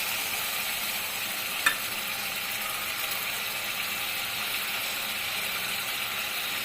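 Goat liver and spices cooking in a pan after water is added, a steady even hiss and bubbling sizzle throughout with a single sharp clink early on, no voices.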